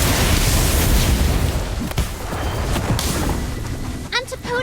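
A Confringo blasting spell from the game Harry Potter: Magic Awakened, a loud, broad rumbling burst that rolls on for several seconds amid busy game noise, with a voice speaking briefly near the end.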